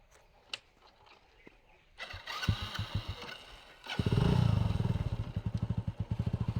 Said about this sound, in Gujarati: લે બાઇક ચાલુ કરી